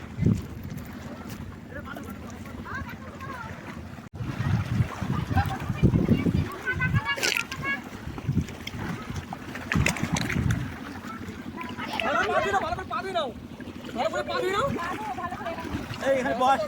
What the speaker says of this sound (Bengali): বোট ছেড়ে দিয়েছে।